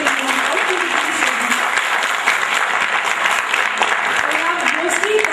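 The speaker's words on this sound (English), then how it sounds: "I should really clap for them once again." Loud, sustained applause from an audience at an HR summit after student presentations, a dense and even roar of many hands clapping nearby without a break, with some voices faintly mixed in.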